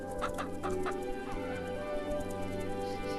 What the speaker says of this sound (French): Des poules, des créatures horribles et effrayantes.